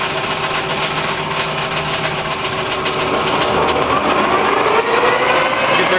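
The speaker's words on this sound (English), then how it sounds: "Get their spindle going." A horizontal boring mill's spindle starts up in a machine shop, giving a loud mechanical whir and motor drone that rises slightly in pitch as it gains speed, steady and close with no talk.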